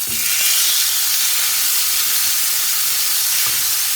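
Steak searing in a hot pan, a loud, even sizzle that hisses continuously for a few seconds with no talk over it.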